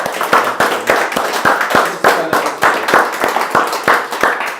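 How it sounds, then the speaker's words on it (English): A small group claps for Graham at a collaborators' meeting, loud, close and fairly sparse, with distinct individual hand claps in a loose, uneven rhythm for almost five seconds. "Please, a round of applause for Graham"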